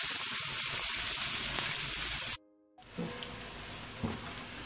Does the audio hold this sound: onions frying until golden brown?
yes